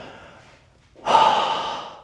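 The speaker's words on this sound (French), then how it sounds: "Tu vas pouvoir donc vider tout ton air ici." A forceful breath out through the mouth, pushed to empty the lungs during an abdominal exercise, starts suddenly after a quieter breathy stretch and stays loud and airy for about a second, close to the microphone.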